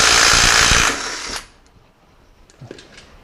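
A power tool, likely an impact wrench, whirs loudly for about a second as a car wheel is taken off during no-start diagnosis work, then cuts out and leaves faint clinks and handling noises.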